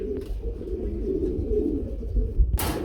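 Domestic pigeons at a farm coo in low, soft repeated phrases, close by and overlapping, with a sudden brief rustle or flutter near the end.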